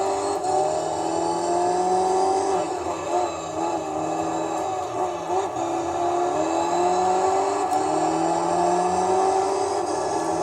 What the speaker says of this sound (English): Excellent acceleration as well, and the gearbox, obviously because it's a WRC car, the gearbox is basically instantaneous to shift